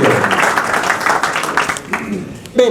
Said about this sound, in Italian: Noi lo salutiamo con un applauso